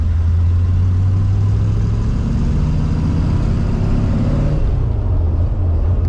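An Aston Martin DBS V8 pulling away, its engine a low steady rumble close by that rises slightly in pitch, then settles and fades toward the end.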